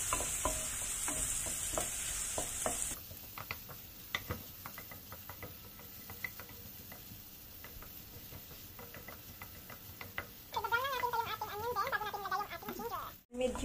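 Onion frying in salted hot oil in a pot, a steady soft sizzle with occasional ticking stirs and scrapes, brighter crackling bursting up near the end.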